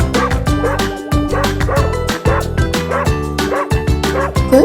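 A dog barks loudly in a rapid, repeated series of sharp yips and bow-wows, close and with no voices over it.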